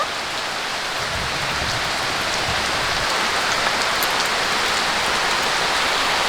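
Rain falls steadily on a rainy day in a home kitchen where spices are being ground for chicken gravy, a dense, even, loud hiss of drops hitting surfaces without pause.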